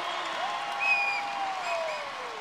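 Basketball crowd at a UC Irvine Anteaters home game against Hawaii rising to its feet, a sustained wash of cheering and applause with shrill whistles and shouts cutting through, steady and fairly loud throughout.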